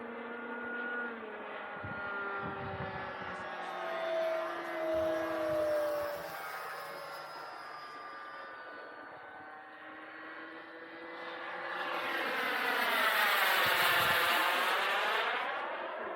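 A Freewing RC turbine jet flies past, its whine rising and falling with Doppler sweeps as it passes and comes in to land, with a loud close pass near the end and faint bumps of handling.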